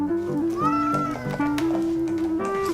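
A house cat meows repeatedly in a run of drawn-out, whining calls with rising and falling pitch, close and fairly loud, with no talking.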